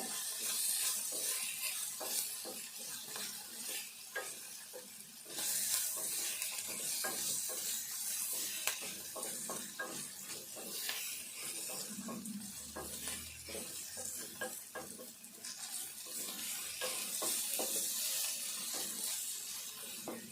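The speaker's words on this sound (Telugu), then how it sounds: "ఇదంతా మంచిగా దగ్గర ఫ్రై చేసుకోవాలి" Salted potato snack mixture frying and being stirred in a pan, a soft continuous sizzle with scraping spatula strokes, faint and close, no voices.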